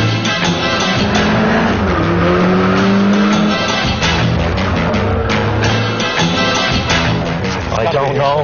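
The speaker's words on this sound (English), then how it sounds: "No, it's a 3-wheeled car, Connor." A three-wheeled car with a cockpit driving past, its engine loud and close with revving and tyre noise mixed with other traffic, while people talk over it.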